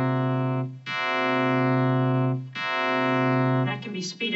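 Sustained buzzy synthesizer tone with rich harmonics, shaped by an envelope generator into swells that fade and restart in about three cycles, the last one breaking into a gritty, rougher burst near the end.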